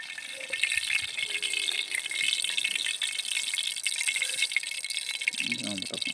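Mustard seeds splutter and crackle in hot oil over an outdoor campfire at night in a palm grove, a dense rattling pop that continues throughout at close range.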